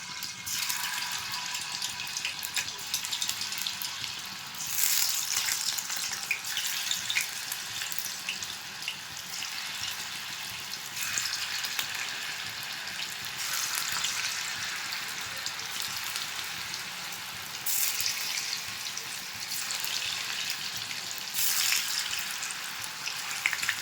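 Flour batter sizzling in hot refined oil in a wok, a steady, bright frying hiss that swells in loudness several times, close and continuous with no voices.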